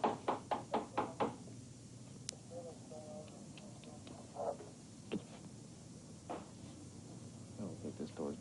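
An old, long-unused door being opened, giving a series of loud knocking thumps at first, then scattered creaks, taps and clicks, with faint voices in the background.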